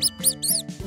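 A cartoon mouse in a children's animal alphabet gives a series of about four high, bright squeaks in quick succession, close and clear.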